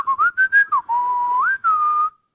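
A person whistles a wavering, off-key tune, several short notes followed by a longer sustained pitch that bends upward, close and clear with no talking.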